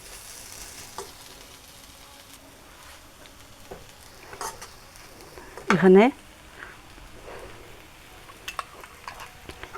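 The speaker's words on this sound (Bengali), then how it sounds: "এখন একটু ভেজে নিতে হবে" Sweet pumpkin filling fries in a pan, a quiet, low sizzle with scattered stirring taps and one louder burst of scraping, under a woman's speech.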